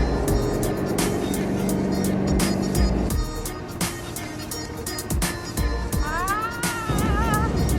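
A scooter runs flat out on the Bolivian salt flats at Uyuni, its engine a loud, sustained drone mixed with heavy wind buffeting; the pitch drops partway through and a wavering tone rises near the end.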